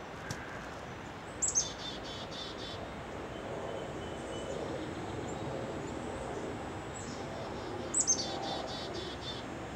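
Chickadees being hand-fed give two short, high chirping bursts some seconds apart over a steady outdoor hiss.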